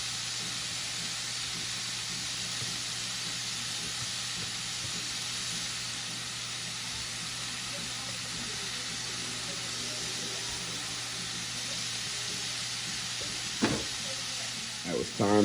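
Steak and onions sizzle on a flat griddle, a steady broad hiss running throughout at moderate volume, with a few brief clatters of a utensil near the end.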